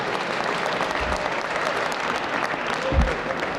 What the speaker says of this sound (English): How would you like the audience to applaud?